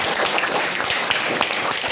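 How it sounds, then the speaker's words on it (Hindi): A studio audience breaks into loud, dense applause to welcome the chief guest of an interview, a continuous wash of many hands clapping with no gaps and no voices heard. "तालियों के साथ।"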